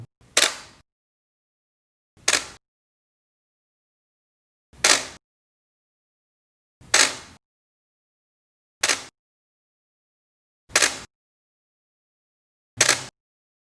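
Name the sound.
camera shutter clicking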